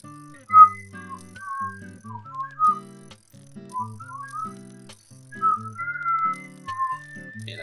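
A person whistles a wandering, uneven melody of short and held notes over a soft game background with light rattling, no speech.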